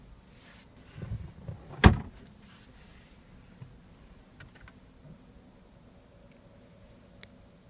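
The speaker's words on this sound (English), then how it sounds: "press that button to open the glove box" The glove box of a 2015 Jaguar F-Type R Coupe pops open with a single sharp click-thunk after a light rustle, and the cabin stays quiet for the rest.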